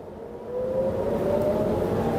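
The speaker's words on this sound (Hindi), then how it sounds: "और ये सायरन।" An air raid siren wails from a distance over Tel Aviv during a missile attack, its tone slowly rising and holding over a low background rumble.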